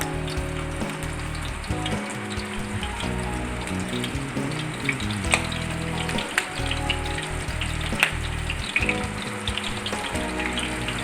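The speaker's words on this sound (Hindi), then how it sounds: "तवा कबाब का कीमा तैयार हो चुका है और अब इनको मैं फ्राई करूंगी।" Tawa kebabs of minced beef or mutton fry on a flat griddle, giving a steady, close sizzle with crackling pops throughout and no talking.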